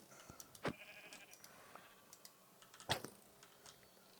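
A sheep in the Minecraft video game bleats a few times, mixed with soft, scattered computer keyboard clicks.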